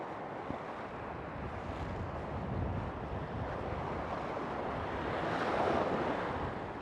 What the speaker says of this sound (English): so I don't get hammered by any waves.